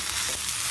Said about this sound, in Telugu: వేసుకుని పోపు చక్కగా సన్న మంట మీద వేయించుకోవాలి